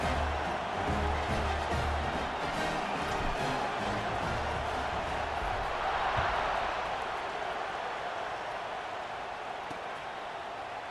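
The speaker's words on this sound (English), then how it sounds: "this crowd is buzzing after that last score" Stadium crowd buzzing in a college football video game, a broad, steady wash of distant murmuring voices and faint cheering that swells briefly in the middle and then eases off slightly.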